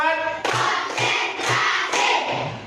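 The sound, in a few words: group clapping hands in rhythm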